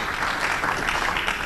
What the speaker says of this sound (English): I don't understand the way you are clapping.